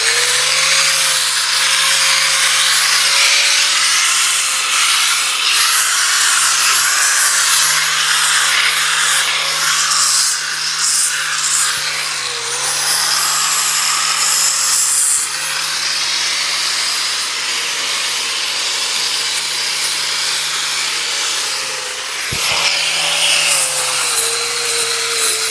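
Sandpaper rubbing steadily over chainsaw-cut wooden cabin beams, a loud continuous scraping hiss with a low motor-like hum underneath that dips briefly a few times but runs almost unbroken throughout.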